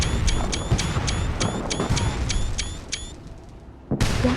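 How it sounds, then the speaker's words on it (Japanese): Fireworks going off in Fallout 4: a quick run of about a dozen crackling bursts in steady rhythm over a dense rumble, fading out before a sudden louder burst at the end. "花火が上がってる。"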